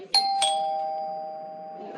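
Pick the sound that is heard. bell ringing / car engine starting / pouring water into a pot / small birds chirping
bell ringing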